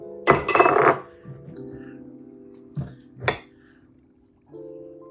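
Zucchini ravioli filling being stirred with an egg in a bowl, giving a few clinking utensil-on-dish knocks and scrapes with quiet pauses between them.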